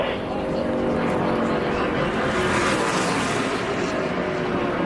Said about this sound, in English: he could do a burnout, but he had to be real easy on the engine